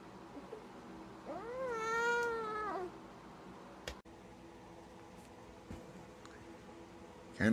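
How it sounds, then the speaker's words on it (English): A cat gives one drawn-out, rising and falling meow, fairly close, followed by quiet room noise with a few small clicks and rustles. "Starting to make some meowing sounds too."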